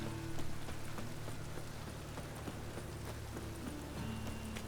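Roach the horse's hooves clip-clopping at a walk in The Witcher 3, a steady trotting rhythm of soft hoof beats over a low ambient hum, fairly quiet, with no talk.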